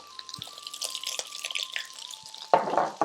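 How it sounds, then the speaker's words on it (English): Chilli, chilli seeds, black pepper and mixed spice powder fry in a pan for a gunpowder Madras curry. Faint sizzling and occasional stirring scrapes run through the clip, then a louder burst of sizzle arrives near the end as more goes in. "we're going to fry this out for around 30 seconds"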